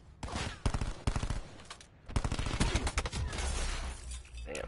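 Dense gunfire in the Black Ops 4 beta, rapid bursts and overlapping shots cracking loudly and almost without pause, with short gaps between volleys.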